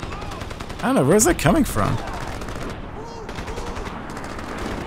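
Mounted machine gun fire during a Crysis firefight, heard as short bursts in the background beneath a voice talking over the game.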